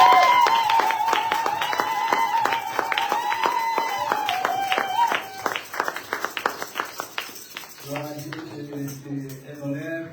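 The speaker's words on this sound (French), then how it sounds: "Est-ce que tu peux applaudir fortement?" A church congregation claps loudly in fast, regular beats under a sustained sung or shouted voice, then the clapping thins out as a voice speaks over scattered claps.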